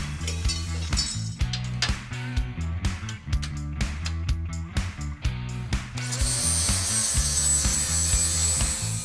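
A Lincoln Electric Tomahawk 1000 plasma cutter slicing 1/8-inch steel plate, heard as a rapid run of loud rasping, crackling bursts that give way to a steady high hiss, with no talk.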